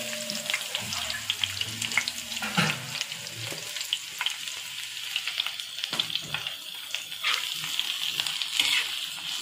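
Onions frying in oil on a dosa griddle for goat brain gravy, a steady close crackling sizzle with occasional stirring clatters throughout.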